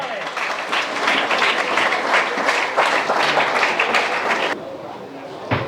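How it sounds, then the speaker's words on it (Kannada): Loud, dense applause from an audience at a ceremony honouring a newly selected Agniveer army recruit, sustained clapping for several seconds before easing slightly near the end. "ಅವನಿಗೆ ಜೋರಾದ ಚಪ್ಪಾಳೆ."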